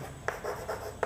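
A hand writes a multiplication table on paper, a few short scratchy pen strokes and taps spread over about a second, close and quiet, with no voice.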